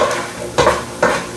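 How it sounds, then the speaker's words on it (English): A spoon scrapes the bottom of a Dutch oven where flour is cooking for corn chowder, giving two firm scraping strokes over a low sizzle, close and fairly loud. "You're gonna scrape the bottom of your pot, Dutch oven, whatever you got."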